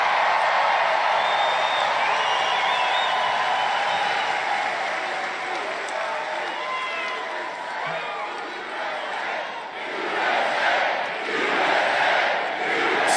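A large crowd at a political rally cheering and applauding loudly, a roaring wash of clapping and shouts that dips slightly and then surges again.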